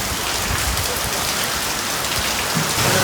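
Heavy rain pours steadily and loudly in Bali, a dense continuous hiss of drops drumming on surfaces with no gaps.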